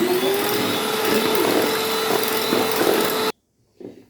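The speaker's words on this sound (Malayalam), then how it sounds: "ക്രീം പരുവത്തിൽ നമുക്ക് മുട്ട ബീറ്റ് ചെയ്തെടുക്കണം" An electric mixer whirs steadily and close while beating eggs with powdered sugar until creamy for a steamed vanilla sponge cake, then cuts off abruptly, followed by a brief soft knock.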